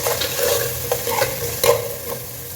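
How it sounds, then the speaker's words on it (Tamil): Cinnamon, cloves and cardamom sautéing in oil for mutton dum biryani, a loud close sizzle with a few scraping stirs of a spoon against the pan, no voices present. "பட்டை கிராம்பு ஏலக்காய் வதங்கட்டும்"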